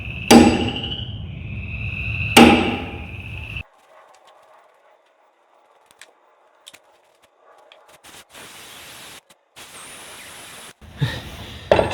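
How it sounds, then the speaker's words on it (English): Two loud metallic hammer blows ring out on a Rockwell 16-inch radial arm saw as its trunnion is knocked loose, each striking hard and ringing briefly, followed by quieter scattered clanks and shop noise. "Improper hammer for this."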